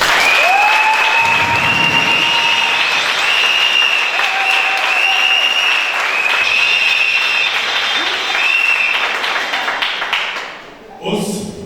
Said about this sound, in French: Et les applaudissements.